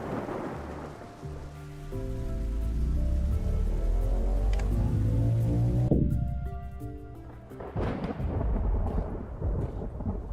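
Heavy rain pours steadily in a Vintage Story thunderstorm, with a loud rolling thunder crash building through the middle and a sharp crack near the end, no voices.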